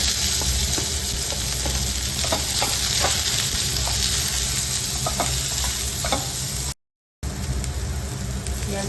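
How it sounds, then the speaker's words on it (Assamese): Onions fry in refined oil for a white sauce pasta, a loud, close, continuous sizzle with spatula stirring clicks throughout, briefly cut to silence near the end before the sizzling resumes. "তাৰপাছত পিঁয়াজখিনি দিম, অকণমান ভাজি ল'ম।"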